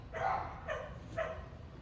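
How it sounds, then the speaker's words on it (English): A dog named Mamba barks three times at another dog, sharp and fairly faint, spaced about half a second apart, with light background noise. "He's barking at the other dog."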